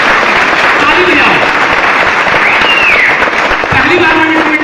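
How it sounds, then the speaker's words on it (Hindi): Audience at a network marketing business seminar clapping loudly and continuously, a dense wash of hands close by, with raised voices and whistle-like cries rising over the applause. "ताली बजाओ, सर मानी चाहिए आप लोगों को, ताली बजाओ"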